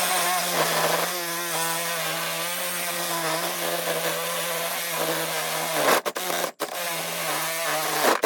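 A power saw cuts through the last rusted muffler bolt on an M725 military ambulance, close and loud, with a continuous high whine and a shifting pitch. The cut breaks off abruptly near the end.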